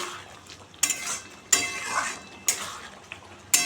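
A metal pot of papaya and potato curry is lifted off a stove, giving a few sharp clanks and scrapes of metal cookware at irregular intervals over a faint kitchen hiss.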